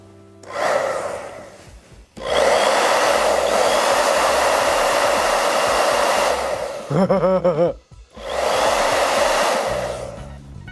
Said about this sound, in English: Maybe let's try it with our hair dryer.